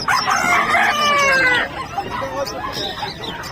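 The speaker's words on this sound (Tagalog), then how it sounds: "So check natin yung mga dala nilang ibon, no." Mixed bird calls at a pet market in Bocaue, likely caged parrots such as pineapple and cinnamon conures, sound as a burst of loud, close squawks and warbling chirps over busy crowd noise, then fade into softer scattered calls.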